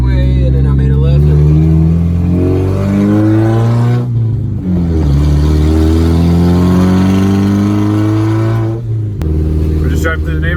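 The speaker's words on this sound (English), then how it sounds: "We're just driving through the neighborhood" Car engine droning and shifting through gears while driving through a snowy Austin neighborhood during the 2021 snow storm, fairly loud and close, with people talking over it.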